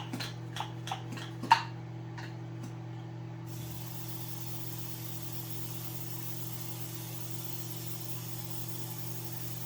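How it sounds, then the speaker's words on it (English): A few quick sprays of olive oil from a pump bottle into a pan in short hissing bursts, followed by a steady faint background hum and hiss. "I'm just going to spray olive oil on it."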